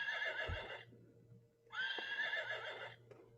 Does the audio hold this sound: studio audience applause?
no